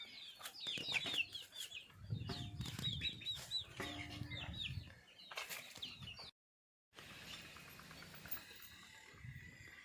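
Hens and small chicks in a wire-mesh pen: clucking and thin, high peeping chirps overlap with brief wing flaps. Close and fairly quiet, with a short silent gap near the end.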